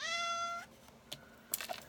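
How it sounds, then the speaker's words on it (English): A house cat lets out one clear, drawn-out meow nearby, followed by quiet rustles and a few light clicks. "And that's my cat."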